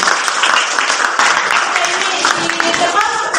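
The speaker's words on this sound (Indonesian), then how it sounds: "Oke, tepuk tangan buat Valerie." A classroom of students clapping for a classmate after an answer in a maths lesson, a dense burst of hand claps lasting a few seconds, with some voices mixed in.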